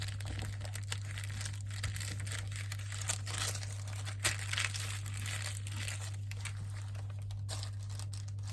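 Paper being folded and handled for a junk journal, soft continuous crinkling and rustling with a few sharper creases, close and quiet over a steady low hum, no talk.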